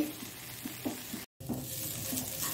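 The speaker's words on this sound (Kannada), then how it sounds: "ಅಷ್ಟು ತನಕ ನಾವಿದನ್ನು ಫ್ರೈ ಮಾಡ್ಕೊಳ್ಳೋಣ" Corn mixture frying in coconut milk in a pan for a creamy corn pakoda, giving a steady close sizzle with soft stirring scrapes, broken by one brief dropout partway through.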